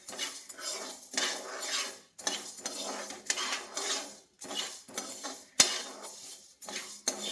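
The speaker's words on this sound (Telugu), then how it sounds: "ఎక్కువ లైట్గా వేయించాలి ఫ్రెండ్స్" Two spoons of coriander seeds stirred while dry-roasting in a pan for chicken pickle, a spoon repeatedly scraping and clinking against the metal in uneven strokes, close and fairly loud, with one sharp knock near the end.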